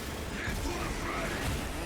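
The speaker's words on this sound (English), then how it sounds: "Reloading!" A weapon is reloaded in the video game Space Marine, with a brief burst of mechanical clatter and shuffling over a constant noisy game background.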